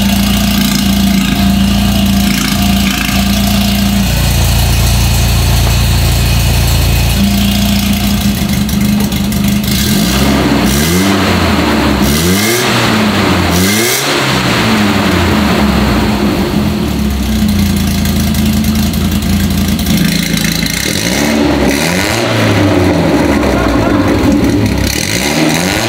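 Volvo fitted with a 2JZ engine, exhaust valves open, idles loudly with a deep steady rumble, then is revved hard in several rising and falling bursts, stays close and dominant throughout, with brief voices under it.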